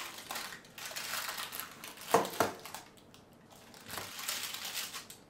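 A big knife cuts into a freshly baked smoked salmon, feta and sun-dried tomato quiche, giving a few soft crunchy crackles through the crust, with a sharper pair of crunches in the middle and quiet pauses between.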